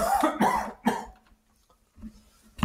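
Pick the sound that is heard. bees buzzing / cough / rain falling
cough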